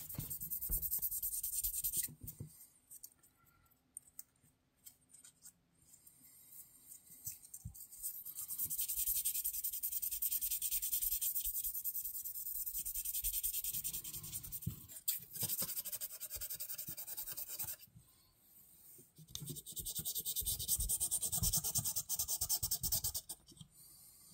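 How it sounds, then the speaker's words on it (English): A Barlow knife is hand-sanded with 1000 grit sandpaper, giving close, raspy back-and-forth scrubbing strokes in long bursts separated by brief pauses, with no voices. "I'm going to use this same 1000 grit because I'm nervous."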